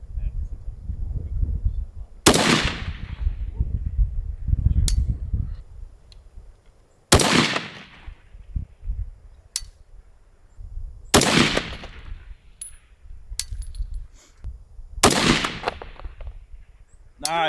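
Loud, sharp rifle shots from a GA Precision Gap 10 Gen 2 chambered in 6.5 Creedmoor, fired at 1,000 yards outdoors: five evenly spaced cracks a few seconds apart, each ringing out over a low rumble with brief voices between.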